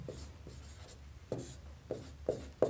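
A pen writes out a trigonometry solution for a Class 10 maths lesson: soft, close scratching strokes with several sharper taps as the pen meets the paper, quiet and without talking.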